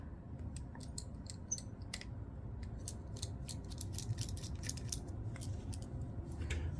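Screws being undone on a KdLinks dashcam during a battery replacement, small close clicking and ticking from a screwdriver over a low steady background hum, irregular quick taps, no voices.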